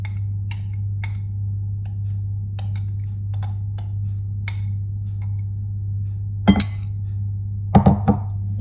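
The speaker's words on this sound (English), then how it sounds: "stirring it all together to get the coconut oil evenly spread all over the mixture" A low carb granola mixture is stirred with a third of a cup of melted coconut oil: light, scattered clicks and taps of a utensil against a bowl, then a few louder knocks, over a constant low hum.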